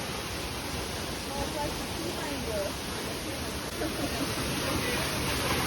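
Loud, violent waterfall at Gorgo de la Escalera in Spain pours in a dense, continuous roar that fills the space, steady and close with no break.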